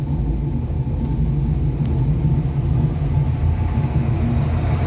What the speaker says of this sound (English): Got good oil pressure, good idle.